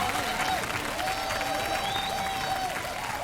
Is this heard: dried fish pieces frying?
no